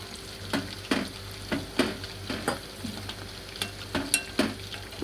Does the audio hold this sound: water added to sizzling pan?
yes